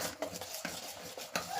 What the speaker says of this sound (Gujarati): સરસ એને આપણે ચમચી લઈ આ રીતનું મિક્સ કરી દેવાનું છે બધું